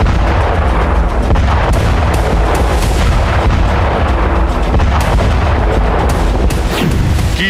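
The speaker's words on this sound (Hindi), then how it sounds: "कीव में रूसी सेना ने 20 से ज्यादा मिसाइलें दागी। एक के बाद एक कई धमाके हुए" Missile strike explosions in Kyiv, a dense run of booms and blasts rolling one after another with no pauses, loud and continuous throughout with sharper cracks scattered across.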